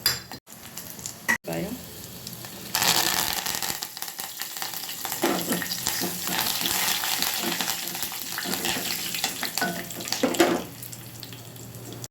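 Oil sizzles and crackles steadily as tempering spices, cumin and dried red chillies fry for a drumstick-leaf chutney, a continuous hiss with occasional stirring clinks, close by and without talk.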